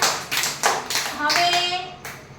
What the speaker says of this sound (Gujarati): સરસ તાળી પાડો બધા